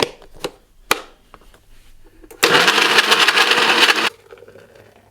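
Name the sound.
blender running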